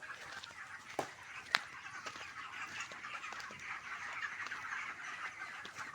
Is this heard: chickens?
yes